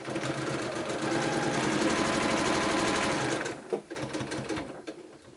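A sewing machine stitches a quilt seam in a wonky twisted windmills pattern, running steadily and loudly at high speed for about three seconds before slowing into a few uneven bursts.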